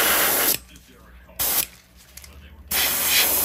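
Paint spraying for a custom gill pattern, likely from an airbrush: bursts of bright hiss separated by pauses, a short spurt and a longer spray.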